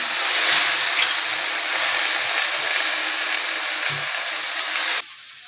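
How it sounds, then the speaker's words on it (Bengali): Leafy greens frying in a pan, a steady broad sizzle that holds loud and even for about five seconds, then cuts off abruptly to quiet, with no talking. "তাহলে শাকটা ভেজে নিই।"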